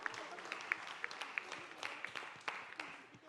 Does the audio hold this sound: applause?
yes